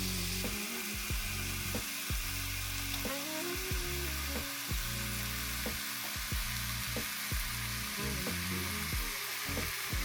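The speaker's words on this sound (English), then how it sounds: "when you hear that sizzle, that's how you know it is nice and hot" Lamb lollipops sizzle in a hot pan with a constant, loud hiss of frying fat, close up, crossed by faint scraping or stirring clicks and no voices.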